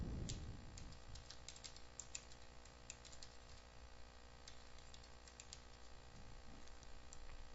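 Computer keyboard typing as an address is entered, quick irregular key taps close and fairly faint over a quiet background hum.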